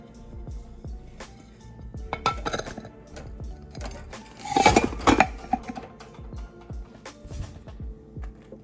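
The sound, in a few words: pound cake flipped onto a plate and cake board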